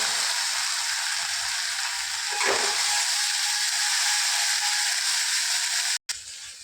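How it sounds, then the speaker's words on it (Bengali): Cumin paste and ginger paste fry in a pan with a dense, steady sizzle. A brief scraping stir comes early on and a sudden dropout near the end, with no speech. "জিরে বাটাটা দিয়ে ভেজে নেব"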